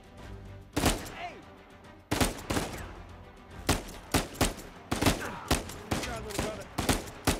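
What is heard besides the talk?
gunfire in the video game Uncharted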